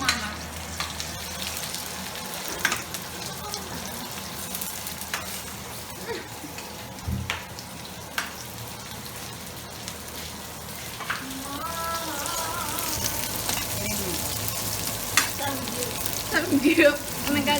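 Chop suey frying and being stirred in a pan, a soft continuous sizzle with occasional scrapes and clinks, some faint voices in the background.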